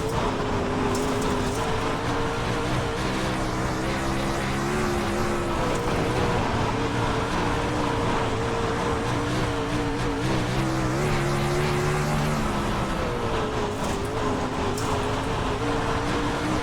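Winged sprint car in the iRacing video game driving through a corner, a loud continuous engine drone whose pitch rises and falls with throttle changes, with hints of tire scrub.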